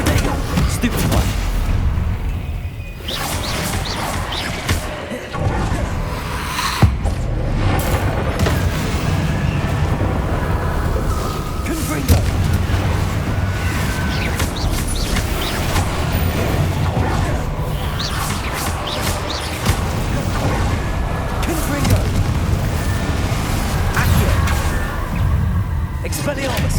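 Spell combat blasts and explosions from the video game Hogwarts Legacy, a dense run of booms and crackling bursts that continues without a break, heavy in the low end, with battle cries and voices mixed in throughout.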